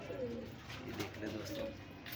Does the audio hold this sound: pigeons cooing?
yes